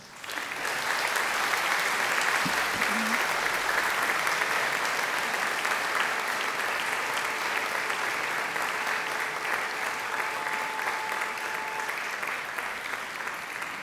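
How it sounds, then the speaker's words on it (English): A graduation audience of families and friends bursts into sustained, dense applause, a steady wall of clapping from a large crowd that stays loud and even for the whole stretch, with a faint whistle-like tone briefly riding over it. "I invite you to give them a mighty round of applause"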